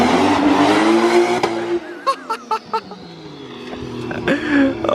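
Drift car in Japan with a working handbrake, engine roaring loudly, then a sharp series of short bursts and tire squeal before the revs build again.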